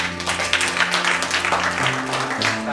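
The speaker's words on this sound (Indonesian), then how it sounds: "tepuk tangan untuk Pak Kejo ya." Clapping for Pak Kejo during a video teleconference of provincial Diskominfo associations and BPS, dense and fairly close, with steady low hum and tonal drones running beneath the applause.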